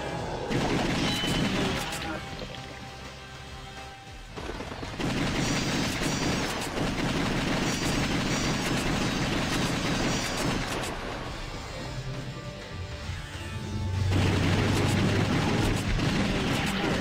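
Gunfire from House of the Dead 2 arcade-style shooter, loud bursts of shots running through most of the stretch over game music and effects, with a voice speaking at times.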